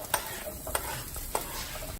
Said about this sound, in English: Look at those onions. Now you're gonna saute these bad boys.